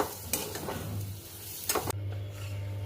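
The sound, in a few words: stirring kachori filling in a pan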